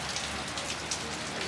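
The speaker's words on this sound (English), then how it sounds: "today it's raining" Rain falls steadily outside Country Lane Antiques, a dense, even hiss of drops on surfaces that holds constant throughout with no other sounds standing out.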